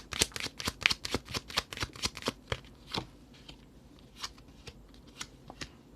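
Tarot cards being shuffled by hand: a quick run of crisp riffling flicks, dense at first and then thinning to a few sparse snaps, close and fairly quiet with no voices.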